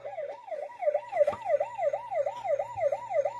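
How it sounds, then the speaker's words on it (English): A toy police car's electronic siren wails in a fast, regular up-and-down cycle, loud and close, with a couple of brief clicks and some background hum. "Police car."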